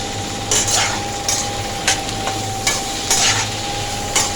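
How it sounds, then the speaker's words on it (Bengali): A spatula stirs turmeric in a pan in repeated rhythmic scrapes over a faint continuous sizzle and hum, with no voices. "এবার আমি খুন্তি দিয়ে নাড়াচাড়া করতে হবে।"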